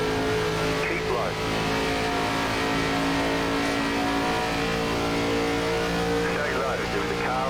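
Simulated ARCA stock cars race at Michigan in an iRacing NASCAR game, their engines droning steadily and loudly throughout with shifting pitch as cars run side by side, while a spotter talks over the race.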